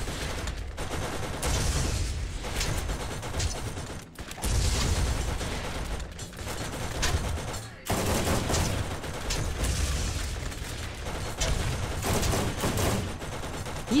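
Gunfire from turrets in Borderlands GOTY Enhanced blasts almost without pause, dense and loud, with mechanical clatter mixed in and two short breaks in the barrage.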